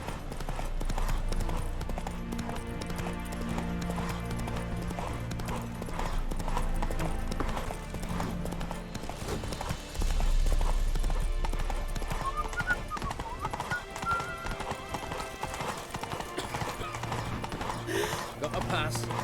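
Rhythmic hoofbeats of a galloping horse in The Witcher 3, a steady clip-clop running throughout under a voice, with faint game music and ambience behind.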